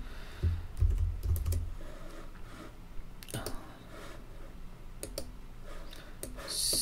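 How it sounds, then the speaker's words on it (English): A computer keyboard being typed on while entering a spreadsheet formula, heard as sparse, close clicks and key taps in short clusters with pauses between them. "Click on the formula and just type in the formula that I have here."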